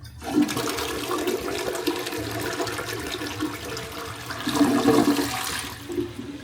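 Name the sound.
slow toilet flush in an office restroom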